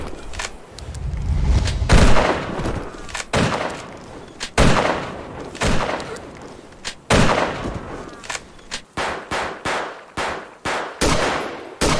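Gunfire in the GZDoom shooter Apocalyptic Vibes: loud, punchy shots come in bursts and single blasts with deep booming tails, then quicken into a rapid string of reports near the end.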